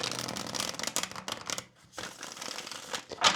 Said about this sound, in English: let's just go ahead and get the shuffle done